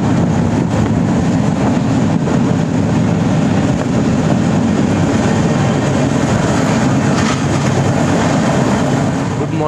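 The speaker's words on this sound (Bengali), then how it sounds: "আর ট্রেন মোটামুটি ভালোই চলছে, প্রায় 1 ঘন্টা ফাস্ট চলছে ট্রেন।" A long-distance passenger train running on rails, a loud continuous rumble and rattle heard from inside a coach, steady and unbroken without speech.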